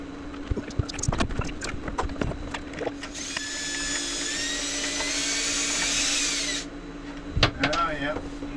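Power drill whirring for several seconds while driving screws into a 2024 YOHO center cabinet, framed by sharp knocks and clatter and a voice speaking briefly.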